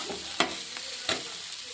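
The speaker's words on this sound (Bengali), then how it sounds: "আলুটা দিয়ে ভালো করে নাড়াচাড়া করে নিয়ে একটু ভাজা ভাজা করে নাও" Potato pieces with turmeric sizzle in a hot pan while being stirred, two sharp scrapes of the spoon standing out over a soft, steady fry.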